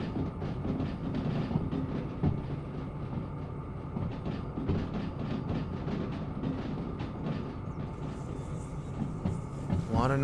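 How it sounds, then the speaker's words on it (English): Train rolling over a run of rail switches in the train simulator game Derail Valley, a dense continuous rumble with rhythmic clattering jolts throughout, steady and fairly loud. "A lot of noise going over all those switches."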